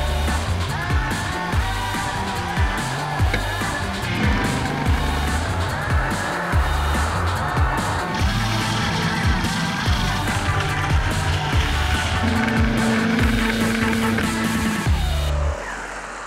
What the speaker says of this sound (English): I'm measuring friction with this special car that has a fifth wheel.